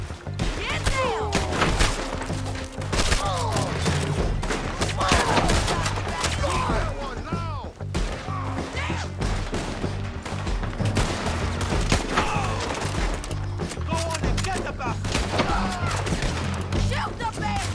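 Continuous Red Dead Redemption 2 gunfight of dense rapid shots and volleys, cracks layered over one another at close and middle range throughout, with voices shouting over the battle.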